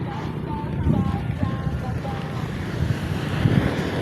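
Strong sea waves churn under a gusty wind, a broad, close roar with wind rumbling on the microphone and surges of water, while faint voices talk beneath it.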